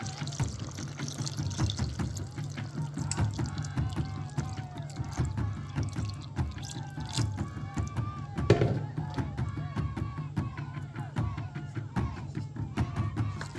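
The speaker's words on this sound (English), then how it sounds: "now I'm just gonna add some water, just enough to cover everything." Water poured into an Instant Pot over a 15-bean stew mix, a continuous splashing, gurgling fill heard close up with a steady low hum and small clinks throughout.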